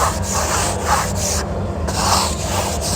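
Light shaving of dried drywall mud along the edge of a shower pan, a steady dry rasping scrape in repeated short strokes, close and alone.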